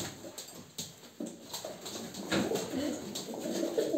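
Pigeons cooing in a loft of flying birds, soft repeated coos with some rustling and bird movement close by, steady low background, no speech.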